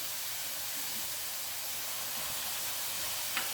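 Chopped onion and bell peppers sizzle in a hot pan, giving a steady, close, hissing crackle that holds evenly throughout.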